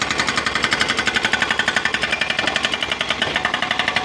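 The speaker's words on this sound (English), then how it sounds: "this hydraulic jackhammer did a great job of busting up that rock" A hydraulic jackhammer pounds solid rock on a road, delivering rapid, steady metallic blows in a continuous loud rhythm from close by.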